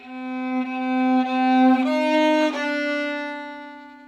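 A single bowed viola note grows louder, holds, then shifts pitch and gently fades away, played alone with no talking.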